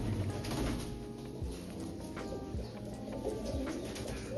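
Black-tailed pigeons in a loft give soft, low, repeated coos that overlap in a steady rolling murmur, with faint chirps and rustling behind them and no voices.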